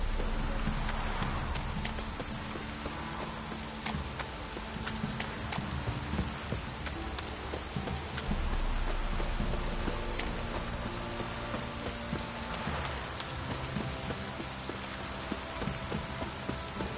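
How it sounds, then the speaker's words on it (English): Light drizzle patters steadily across the open world of The Witcher 3 Wild Hunt, a soft continuous wash of rain under repeated horse hoof clip-clops, with faint voices at times. "It's drizzling."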